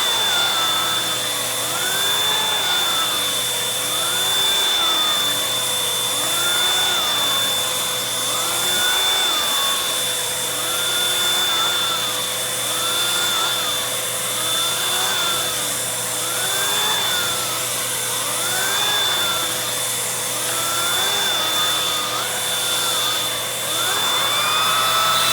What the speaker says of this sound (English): So here is the power paw tool. It's suction driven.